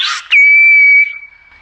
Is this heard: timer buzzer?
no